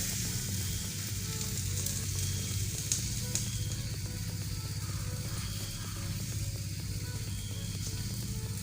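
Pani pitha batter sizzling in an oiled pan, a steady loud crackling fry that runs continuously with no talk.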